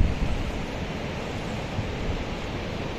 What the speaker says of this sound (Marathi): हा ह्या पाण्याचा आवाज येतो मगाशी